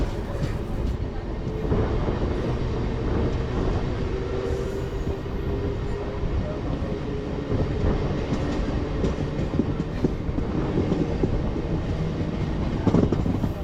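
A MEMU passenger train between Renigunta and Nellore rumbles steadily along the tracks, a continuous loud low roar with faint rattling throughout.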